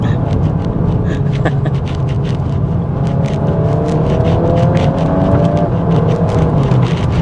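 A VW MK8 Golf R with a DSG gearbox accelerates hard under launch control on a damp road, engine note rising loudly with quick gear shifts breaking the climbing tone.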